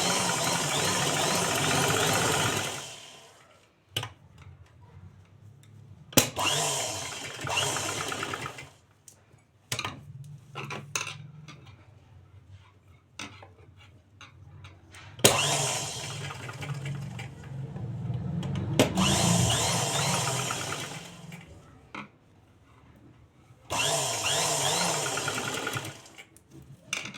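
Electric sewing machine running in several bursts of steady whirring stitches as a cotton blouse is hemmed with a folded edge, with quiet pauses between runs while the fabric is repositioned.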